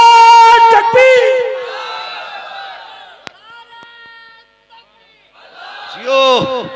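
A large crowd shouts Allahu Akbar in loud, harmonic unison answering the call of Nara-e-Takbir, fading away, then a second rising collective chant near the end.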